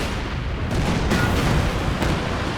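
Rumbling artillery barrage from Scott self-propelled guns in Company of Heroes 2, a dense continuous roll of booms and blasts with no clear gaps, loud and steady throughout.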